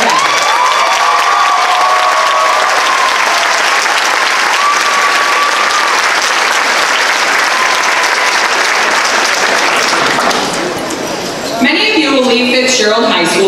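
Loud, sustained applause and cheering from a high school commencement crowd honoring graduates, a dense roar of clapping with tonal shouts over it, thinning near the end as music and a voice come in.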